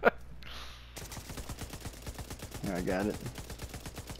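Rapid gunfire in The Division 2 as a fuel tank is shot, a steady run of sharp repeated shots with a louder burst partway through, while someone talks briefly over it.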